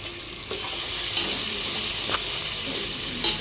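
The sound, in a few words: ginger garlic paste frying in oil with cloves and cinnamon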